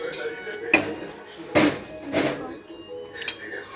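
Cups being put away in a kitchen make a few light clinks and knocks, spaced out over a few seconds, with a person speaking quietly in between.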